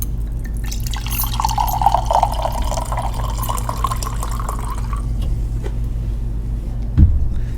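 A drink being poured into a glass on a casual talk show: a steady liquid stream with rising gurgle and fizz over a low background hum, ending in a soft clink, no voices during the pour.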